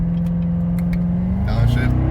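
A Corvette C7 Z51 engine drones steadily on a public road, then its pitch jumps as it blips and revs on a downshift, loud and close, with someone talking over it.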